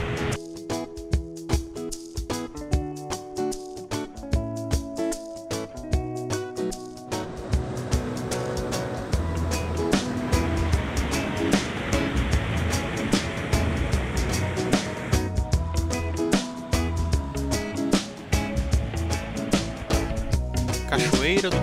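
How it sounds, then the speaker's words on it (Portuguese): Cambará waterfall in the Chapada dos Guimarães, Mato Grosso, giving a steady, broad rush of falling water that swells after a few seconds and continues unbroken at moderate loudness. "Cachoeira Cambará."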